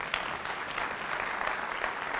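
An audience gives a steady round of applause, dense clapping that runs evenly and fairly close throughout, with no talk over it.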